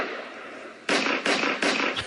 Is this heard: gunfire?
yes